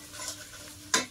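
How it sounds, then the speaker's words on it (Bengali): Raw tomato frying in a wok for breakfast chowmein, a soft steady sizzle with light stirring and one brief louder scrape of a spatula near the end. "টমেটোটা একটু ভাজতে থাকো।"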